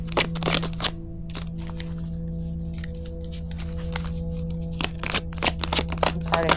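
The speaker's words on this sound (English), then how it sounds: "Pardon me while I shuffle." A deck of oracle cards being shuffled by hand in a quiet room, with bursts of crisp riffling and slapping clicks at the start and end and softer handling in between, close and fairly loud over a faint steady hum.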